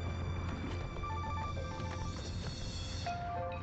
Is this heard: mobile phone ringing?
yes